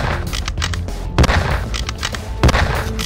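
Rifle gunfire in the WW2 video game Combat 1944: loud, close shots crack at irregular intervals over a busy battlefield din of more distant firing.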